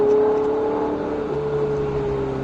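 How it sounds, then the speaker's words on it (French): A Ferrari 488 GTB engine drones in a steady, fairly loud tone as the car accelerates, heard from inside with a smooth rising hum and no talk over it. "Et on accélère, c'est parti."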